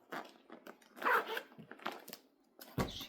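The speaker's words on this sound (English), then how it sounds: "My dog is talking. My dog is having fun." A Swedish Lapphund dog making happy vocal noises, a series of close, varied grumbling whines and yips in short bursts with quiet gaps between them.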